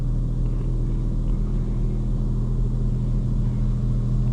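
A touchless car wash runs over a 2025 BMW M4 Competition xDrive in Florida: a steady, loud, even rumble of spraying water and machinery, continuous and unbroken with no voices.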